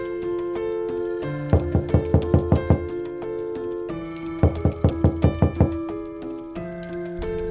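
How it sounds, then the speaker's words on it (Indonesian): Two bursts of about seven sharp knocks each on a house door, loud and close, over a sustained musical backdrop with no speech. "Menjelang sore hari, ada yang mengetuk pintu rumah Haris."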